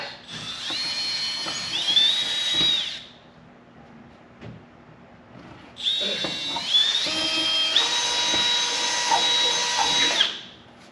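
A power drill bores holes into the side of a trailer with an aluminum lip, two long high-pitched whining runs close by, separated by a quieter pause.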